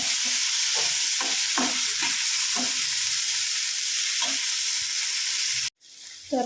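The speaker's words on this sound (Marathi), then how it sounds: "तर ते पण त्याच्यामध्ये थोडेसं फ्राय करून घ्यायचं" Tomatoes fry in a pan for egg masala curry, giving a loud continuous sizzle. Scraping stirs repeat throughout, then the sound cuts out briefly near the end before resuming.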